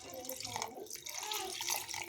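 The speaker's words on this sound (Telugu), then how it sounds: "ఇప్పుడు కొన్ని వాటర్ వేస్తాను" Water poured into a pan of potato kurma curry, a soft, steady splashing and trickling that runs quietly for about two seconds.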